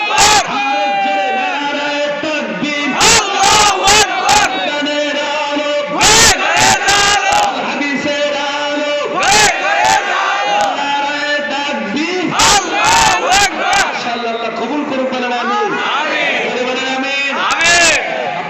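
Large crowd chanting the takbir "Allahu Akbar" in loud unison after a leader's call, repeated in rhythmic call-and-response bursts with a dense wall of voices throughout.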